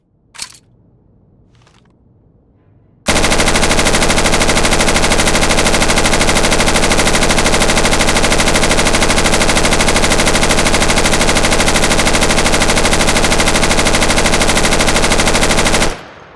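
Sustained automatic gunfire from the video game Insurgency, a dense unbroken burst lasting about thirteen seconds, loud and continuous, preceded by a couple of faint clicks.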